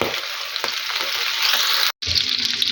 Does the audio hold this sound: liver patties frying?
yes